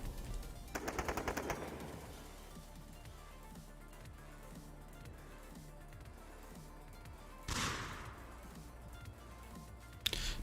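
Bursts of automatic gunfire in a VRespawn video game match: a rapid rattling volley early on, then a quieter stretch with scattered shots, another burst later and a sharp shot at the very end.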